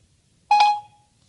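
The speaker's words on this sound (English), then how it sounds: "We'll activate Siri." A single short electronic beep from a Martian Victory smartwatch as Siri is activated, clear and tonal, lasting a fraction of a second against near silence.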